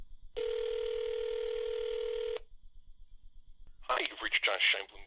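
A single long telephone ring tone plays for about two seconds. A voicemail greeting voice follows, with quieter line noise in between.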